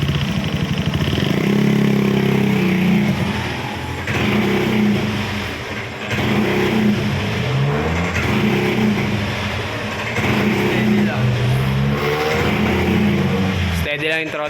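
Honda Beat scooter engine with a mixture fault running at steady throttle, a continuous close drone that holds evenly across the span while someone talks over it.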